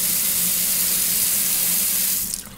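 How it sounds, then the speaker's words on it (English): Water gushes steadily from a tap, a loud, constant hiss that fades slightly at the very end, with no voices. "Turn the water off."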